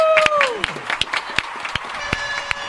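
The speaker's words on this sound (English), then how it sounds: "Let's give her a round of applause." Studio audience on a talk show claps for the host's mother, Tawanda, with scattered sharp claps and cheering under brief whooping voices and a falling tonal sweep at the start.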